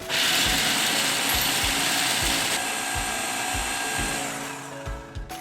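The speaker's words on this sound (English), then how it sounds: "I'm going to now blitz the nuts." A food processor grinds roasted hazelnuts, a loud steady whirring motor with rapid rattling clatter of nuts against the blade and bowl, continuous for several seconds before slowing and stopping at the end.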